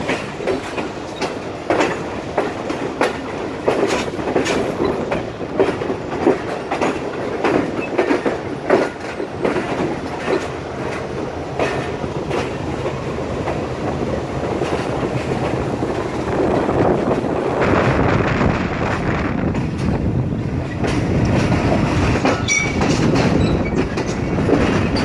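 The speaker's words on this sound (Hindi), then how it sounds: "ट्रेन ट्रैक्स चेंज करते हुए प्लेटफॉर्म नंबर 1 की तरफ बढ़ रही है" A Karachi Express passenger train rumbles steadily while changing tracks on its approach to platform 1 at Karachi Cantt station, with rhythmic clickety-clack of wheels over joints and occasional faint squeals throughout.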